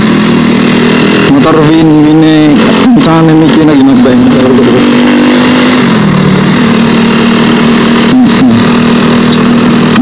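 A Honda Win motorcycle engine runs loud and close, revving up and down with a wavering pitch before settling into a steady idle, while someone talks over it.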